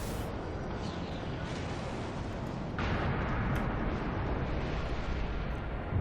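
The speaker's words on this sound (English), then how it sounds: "That is another artillery cruiser trying to snipe me" Artillery cruiser guns firing in the Dreadnought multiplayer video game, a sustained roar of distant shelling that surges into a heavier, louder barrage partway through.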